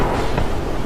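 A lightning strike's thunderclap in a cartoon horror story at a cremation ground, a short, loud, broad rumbling burst that fills the moment without any voices.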